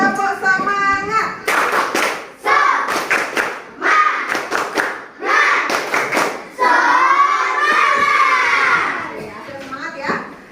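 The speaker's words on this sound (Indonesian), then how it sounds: "Coba semuanya tepuk semangat." A classroom of children performs a rhythmic spirit clap led by their teacher, with bursts of patterned clapping broken by short pauses and loud chanting and shouting from the kids.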